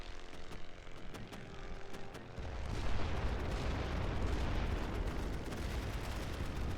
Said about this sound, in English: Y'all can hear the thump, thump, thump of the mortars.